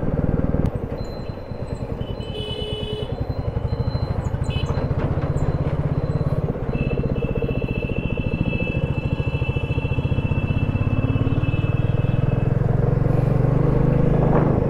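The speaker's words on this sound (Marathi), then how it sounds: "त्यामुळे मी बाईक पण हळू चालवतो आहे" A Royal Enfield Himalayan carrying saddle bags rolls slowly along a road near Alibag, its single-cylinder engine thumping in a steady low chug close by, with faint traffic and occasional horns in the background and no talking.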